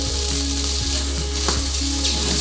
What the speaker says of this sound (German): Dann ganz normalen Räucherlachs, das sind 100 Gramm, die ich jetzt einmal scharf anbraten werde.